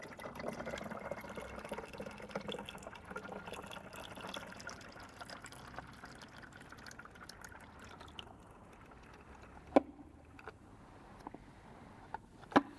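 Cinestill DF96 film developer being poured through a funnel, a quiet continuous trickle and gurgle of liquid, ending with a few faint drips and light clinks.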